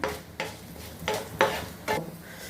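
Mustard seeds, curry leaves and green and dried red chillies crackle and sizzle in hot oil, with a spoon scraping the pan in several short strokes.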